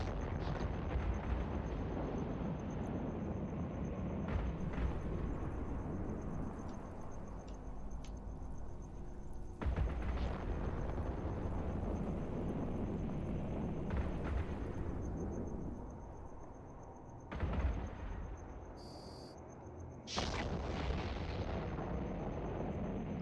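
Missile explosions striking a ship in EVE Online, heavy repeated blasts and rumbling impacts over a sustained roar, with several loud bursts across the stretch and a brief lull near the end.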